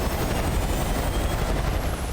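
A helicopter in the game Far Cry 5 gives off a loud, dense, continuous rotor roar with a rapid chopping texture, close and unbroken, with no talking.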